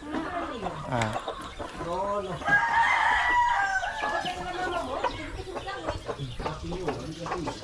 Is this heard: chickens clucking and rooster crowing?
yes